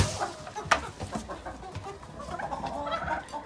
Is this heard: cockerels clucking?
yes